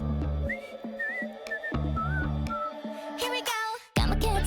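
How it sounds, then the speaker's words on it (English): Melodic whistling from the whistle section of a K-pop song rides over a bright, dense synth-rock backing, with short whistled phrases repeating throughout before the full mix surges back in near the end. "Hello, whistle section."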